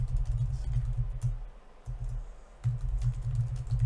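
Typing on a computer keyboard while entering a Discord server description, a steady run of close, quick key clicks with a brief pause midway.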